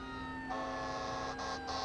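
Fire engine pulling up as a water source at a wet car challenge with a Pontiac Fiero, Buick Roadmaster and Oldsmobile Cutlass, a steady siren-like tonal wail with a deep engine rumble, loud and continuous, swelling after the first half second.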